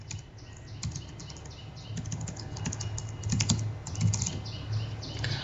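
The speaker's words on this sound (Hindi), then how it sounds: "मैंने यहाँ पे एक नाम लिख दिया रॉबर्ट, और नीचे हम इसका ईमेल एड्रेस लिख देंगे" Rapid keystrokes on a computer keyboard as an email address is typed, a steady close clatter of clicks running throughout without any speech.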